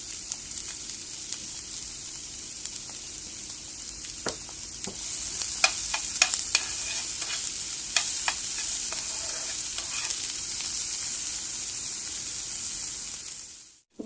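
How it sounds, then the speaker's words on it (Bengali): Onion, garlic, green and dried chilies fry in mustard oil, a close hissing sizzle that swells midway with sharp crackles and stirring clicks, then fades out abruptly at the end. "পেঁয়াজ, কাঁচা মরিচ এগুলো ভালো করে ভাজা হয়ে গেছে।"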